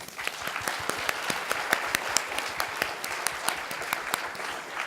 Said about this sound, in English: Maybe we can give a round of applause to them.